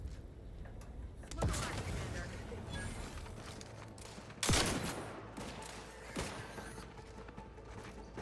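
A grenade explodes in The Outer Worlds 2 against Raptidons, two sharp loud blasts a few seconds apart with a fainter third, over a steady rumbling game background.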